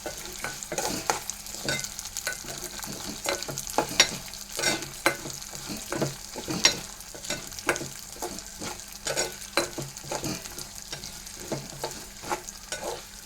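Lentils frying in a pan while being stirred, with a continuous sizzle broken by frequent sharp scraping and tapping strokes in an irregular rhythm, close and fairly loud.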